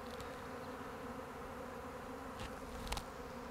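A swarm of agitated honeybees fills the air around a tree during a swarm catch, a dense, steady buzz close by with a couple of brief louder passes.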